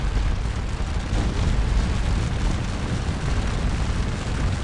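Cannon fire in the Napoleonic battle game Scourge of War Waterloo comes through as a dense, continuous roar of booming artillery, loud and unbroken, with no distinct single shots standing out and no voices.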